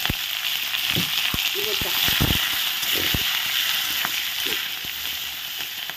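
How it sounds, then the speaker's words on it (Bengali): Onion, tomato and green chili fry in hot oil for a fish curry, a steady sizzle running throughout with a few stirring clatters, while a voice talks over it. "এগুলো একটু ভেজে নিচ্ছি মাংসের মতো করে।"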